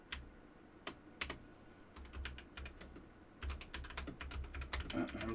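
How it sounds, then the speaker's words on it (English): A loud computer keyboard clacks under steady typing, irregular bursts of sharp close keystrokes, sparse at first and then in quicker runs, fairly faint overall. "I love my keyboard. Isn't that loud?"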